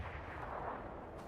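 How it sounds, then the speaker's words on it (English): In a video game, a grenade bursts into a muffled, rumbling blast that rolls on for about a second, heard at a distance and fairly quiet, with no voices over it. "Return nade from Watulins. Oh, it lands"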